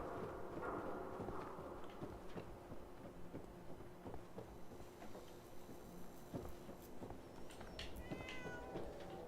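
A cat meows in the video game Fallout 4, with several short, fairly faint meows over soft footstep-like clopping and quiet background game ambience.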